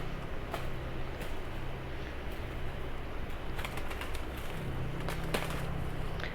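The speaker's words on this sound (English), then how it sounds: "That's the birds fighting in the tree." Birds scuffling in a tree outdoors near a small village church, with pigeon-like cooing, a few sharp chirps and wing flutters over steady low background noise, no talking.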